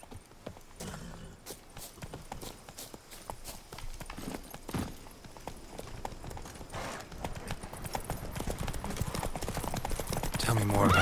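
Roach, Geralt's horse in The Witcher 3, trotting along in a fast, steady clip-clop of hooves that grows louder toward the end, with speech heard over it.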